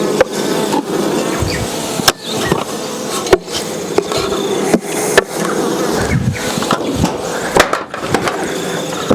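Honey bees buzz around an opened hive during a late-summer colony inspection, a constant close hum broken by repeated knocks and clicks of frames being handled.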